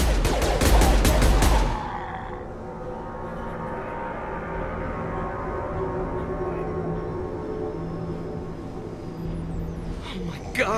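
A dense, loud burst of rapid gunfire cuts down batarians in the Mass Effect 2 video game, lasting under two seconds before giving way to a low, steady ambient hum.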